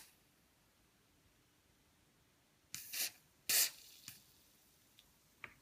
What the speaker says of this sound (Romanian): Vom spraya această zonă unde se află arcul, dar în principiu zona în care este prins în lamela de pe spate.